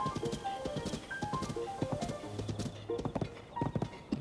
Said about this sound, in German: Wir haben ein Pferd, unfassbar.